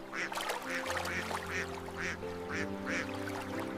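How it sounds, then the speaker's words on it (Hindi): Ducks on a lake quack close by in an evenly spaced run of about seven calls, each a short nasal honk, over a faint low background hum. "बाबा, डक्स देखें। कितनी प्यारी हैं।"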